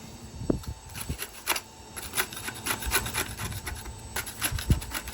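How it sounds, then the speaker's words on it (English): A hand file rasps back and forth against a tool's metal edge in quick, uneven strokes, close and fairly quiet outdoors in a garden, with short pauses between bursts. "Sharpen it up."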